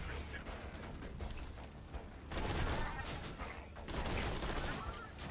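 Rapid assault rifle fire with a boosted fire rate in Borderlands 2 rattles in dense, continuous bursts, a fairly quiet mechanical clatter with slight pauses between strings of shots.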